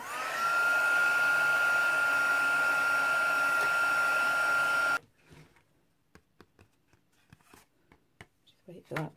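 A handheld heat tool blows hot air onto resist to melt it, a loud steady whooshing hum for about five seconds that then cuts off abruptly, followed by faint scattered taps and rustles.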